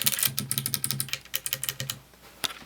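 Rapid typing on a custom-built mechanical keyboard with no keycaps fitted, bare switches clacking in quick irregular bursts, close and crisp, with no voices.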